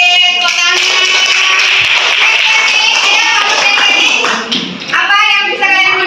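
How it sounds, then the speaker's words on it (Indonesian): A class of students clapping their hands in a classroom during a history lesson, a dense, steady patter of many hands lasting several seconds, with voices mixed in throughout. "Oke, tepuk tangan."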